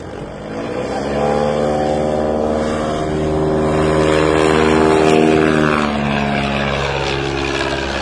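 A bush plane's engine and propeller drone during a STOL landing at the Valdez 2018 competition, a loud, close, harmonic roar that swells in the middle and then eases off slightly.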